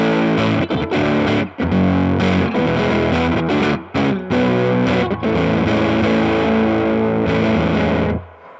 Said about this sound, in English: I kind of like that as an overdrive sound.